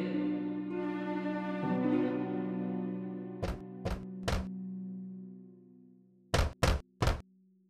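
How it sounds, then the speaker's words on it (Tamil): Someone knocks on the wooden door of a hut in a cartoon animal tale, first three evenly spaced raps and after a pause three louder ones, all alone after a sustained musical passage fades out. "பின்னர் குடிசைக்கு முன்னால் வந்து கதவை தட்டியது."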